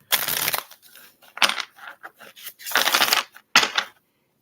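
Tarot cards shuffled by hand in repeated bursts of riffling and rustling, close and fairly loud, separated by short pauses.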